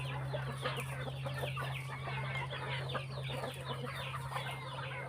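A group of young chickens clucks and chatters continuously at close range, with overlapping short calls over a steady low hum.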